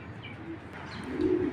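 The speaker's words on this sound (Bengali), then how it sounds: "এটা হলো কালো গলা কবুতর," Old-breed black-necked pigeons, a sibling pair kept for sale, give a low soft coo that swells near the end, close by over a steady background murmur.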